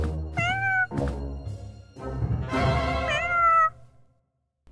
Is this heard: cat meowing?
yes